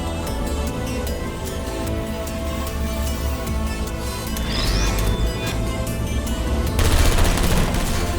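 Turret gunfire in the puzzle game Portal Stories: Mel, a continuous dense rattle of rapid shots with scattered impacts that grows louder and harsher toward the end.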